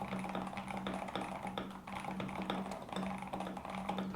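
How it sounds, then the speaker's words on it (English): Steady, brisk typing on an Epomaker TH80-X mechanical keyboard, its dampened key presses clattering in a continuous close-up rhythm without any voices. "The sound of TH80-X is dampened noticeably."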